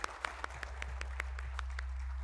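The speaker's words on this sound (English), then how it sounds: "A big round of applause." Sparse, spaced claps over a steady low hum at a Global eCricket Premier League broadcast, faint and thin rather than a full crowd ovation.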